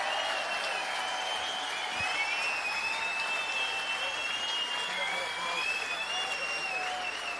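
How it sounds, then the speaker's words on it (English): A large darts crowd at the Lakeside BDO World Championship 2016 final between Scott Waites and Jeff Smith applauds both finalists in a sustained roar, with piercing whistles riding over the continuous clapping. "may we have a round of applause for both our finalists"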